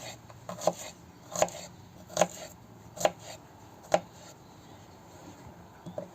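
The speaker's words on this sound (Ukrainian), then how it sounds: "Так, нарізаємо напівкільцями цибульку." A knife slices an onion into half-rings on a board, producing about seven crisp chopping taps spaced roughly a second apart, close and fairly quiet, with no talk.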